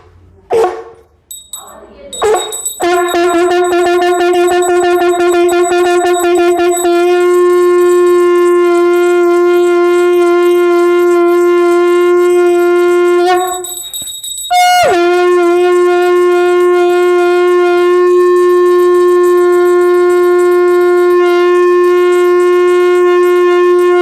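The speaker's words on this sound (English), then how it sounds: "This is the sound of conch which energizes the entire atmosphere." Conch shell blown during a traditional healing ritual, two long sustained loud tones with a strong steady pitch, separated by a brief break, after a few short opening notes.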